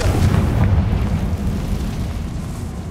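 Explosion from the Confringo spell in the video game Hogwarts Legacy, a loud booming burst that rolls into a decaying rumble, with no speech.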